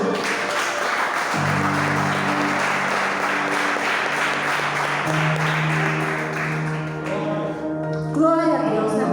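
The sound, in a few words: congregation applauding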